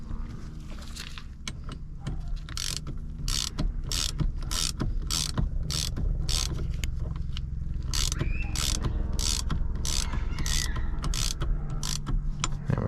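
A steering wheel puller is being tightened down on a GM car's steering column so it pulls evenly, giving close mechanical ratcheting clicks and creaks over a steady background hum.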